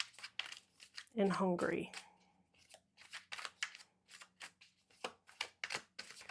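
A tarot card is pulled from a deck, giving crisp papery shuffling and snapping card sounds, close and fairly faint, with a person speaking briefly over them.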